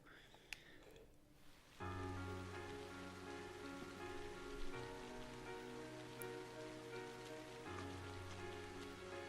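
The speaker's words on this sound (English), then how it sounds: "That's a lot of rain." Steady rainfall in the video game Trails of Cold Steel, a continuous hiss that starts abruptly and runs under a sustained musical drone.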